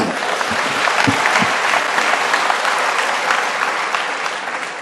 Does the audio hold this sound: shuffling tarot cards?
no